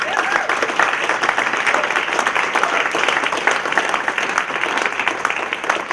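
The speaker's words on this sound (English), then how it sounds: "let's give all the people who did work here a round of applause" An audience applauds the library workers at the grand re-opening of Highland Community Center, a dense, sustained burst of many hands clapping at close range for several seconds.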